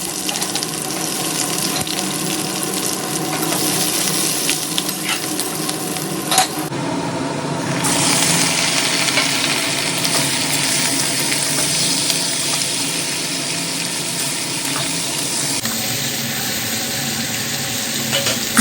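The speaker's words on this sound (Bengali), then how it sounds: "কড়াই বসিয়ে কড়াই তেল দিয়ে দিলাম, দিয়ে এবার তেজপাতা জিরে ফোড়ন দিলাম।" Bay leaf and cumin seeds sizzle steadily in hot oil in a wok, a loud, continuous crackling hiss that lasts throughout with no talking.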